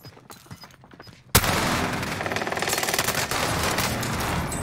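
Dense, loud automatic gunfire from a broken-hipfire PPSh-41 submachine gun erupts abruptly in a video game firefight after a quieter lead-in, continuing as a sustained rapid-fire barrage to the end.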